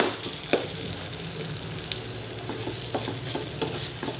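Tomatoes softened and cooking in a pan for a prawn and ground spinach gravy, a close, continuous sizzle with sharp stirring taps and scrapes.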